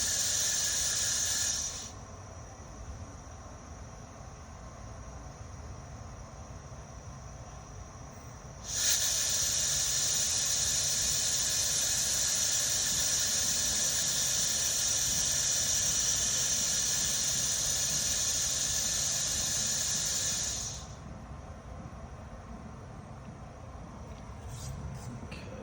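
A rotary valve worked by a CVS 3400 smart positioner during a diagnostic scan, giving a steady high-pitched hiss and squeal that runs for long stretches and cuts out, over a constant low hum.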